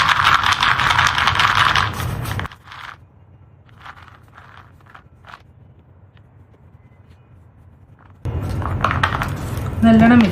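Colour is mixed into a paste in a bowl for artificial rosary peas, close scraping and clinking at the start and end with a quieter stretch of faint taps between.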